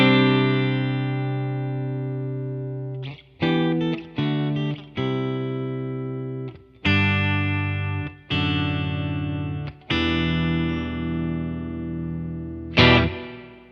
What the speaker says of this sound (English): let's check out that very special plate setting that we can find here on the good old MXR Reverb